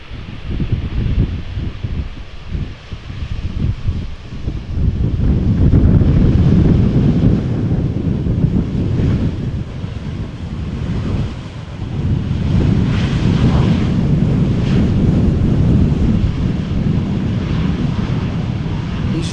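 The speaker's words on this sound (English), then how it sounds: "Applying some of the reverse thrust." An airliner landing at Amsterdam Schiphol in gusty crosswind applies reverse thrust, a loud, sustained low roar that swells and surges over about twenty seconds, heavily mixed with wind buffeting on the microphone.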